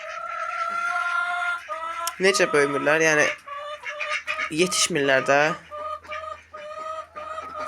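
Young roosters cluck and let out several loud, strained calls in bursts, close by, while someone talks over them intermittently.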